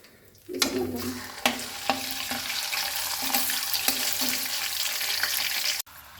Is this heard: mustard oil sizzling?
yes